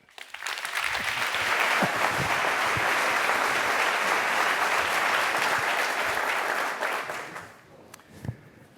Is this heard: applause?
yes